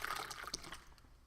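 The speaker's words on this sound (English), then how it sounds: "that's where I'm going to add in the rest of my water" Water pours into a shaker cup holding a Keto Chow powdered shake mix, a steady bright splashing fill that runs briefly and tapers off near the end.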